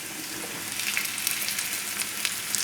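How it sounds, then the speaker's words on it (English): Chicken sausage pieces and halved shiitake mushrooms sauté in a pan with a steady, dense sizzle and crackle, close and continuous, with no talk. "So we'll let that saute."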